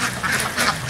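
Laying ducks being fed rice and bran quack loudly and close together, several overlapping calls in a busy flock.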